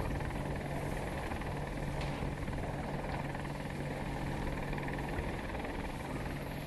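Apache attack helicopter engine in Battlefield 2042, a steady, loud, continuous rotor-and-turbine drone with a low hum underneath that holds unchanged throughout.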